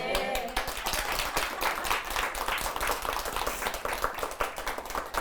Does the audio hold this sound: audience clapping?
yes